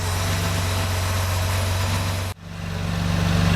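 A Porsche engine with CIS fuel injection idles steadily up close, a low even throb with a brief dip midway before settling back into the same rhythm, no voices over it.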